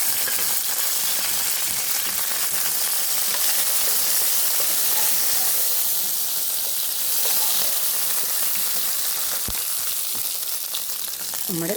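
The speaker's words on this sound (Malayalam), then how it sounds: "ഞാൻ ആ പാത്രത്തിൽ തന്നെയാണ് കടുക് വറുക്കുന്നത്" Mustard seeds sizzling in hot oil with green chillies and curry leaves, a steady crackling fry with scattered sharp pops, close and loud throughout.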